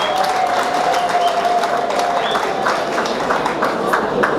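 Crowd applauding at a public gathering with a speaker addressing displaced people, dense sustained clapping at steady loudness throughout.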